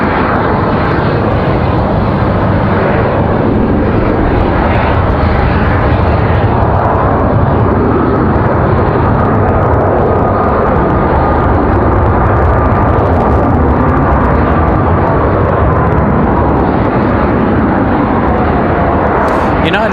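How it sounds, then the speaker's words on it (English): A United airliner touching down on a windy day, a sustained loud jet roar with a slowly falling engine tone as it rolls out, while someone talks over it. "United touching down safely."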